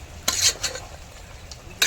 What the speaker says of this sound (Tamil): இந்த பாருங்கள் அப்படி கொதிக்கிறது பாருங்கள்.